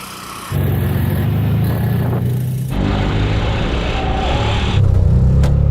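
A three-wheeler, such as a tuk-tuk or Peel P50, accelerates hard in a drag race, its small engine revving loud and close in a steady buzzing drone with gear changes and a final surge of revs.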